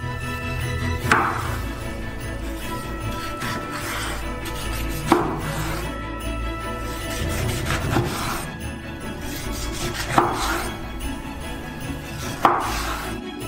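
A knife chopping ripe persimmon into small pieces, with crisp chops spaced a few seconds apart over steady background music.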